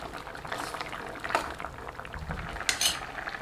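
Radish sambar simmering in a pot, a soft bubbling boil with light metallic clinks of a utensil against the vessel, close and moderately quiet.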